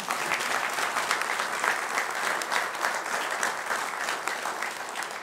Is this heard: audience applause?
yes